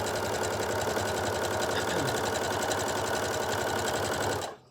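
A sewing machine runs steadily, stitching pinned fabric triangles of a quilt block to the end of the seam, a continuous close mechanical whir that stops abruptly at the end.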